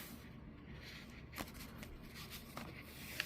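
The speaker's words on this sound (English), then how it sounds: "I'm gonna go ahead and peel this off" A spare adhesive label is peeled off its backing in a woodworking shop, giving a close, quiet run of crackly tearing bits and a few small snaps.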